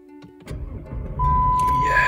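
Jeep WK engine starting after a Seafoam carbon cleaning: a short starter crank catching into a steady, close idle, with a voice speaking just before it fires.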